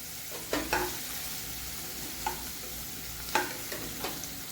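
Onion frying in a pan for Maharashtrian kurdai bhaji, a soft steady sizzle with a few sharp scrapes and clinks of stirring scattered through, close up with no talking.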